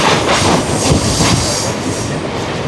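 A Mumbai local train on the CSMT to Khopoli line rumbles loudly and steadily from inside a carriage, with dense wheel clatter and a broad roaring wash of rail noise.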